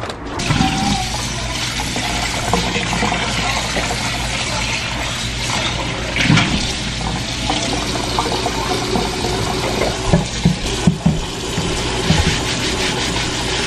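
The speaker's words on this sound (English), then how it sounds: "Time to get in the shower." Shower water runs steadily at home, a loud, continuous rushing spray that fills the whole stretch without pause, with small knocks and shifts in the flow partway through and no talking.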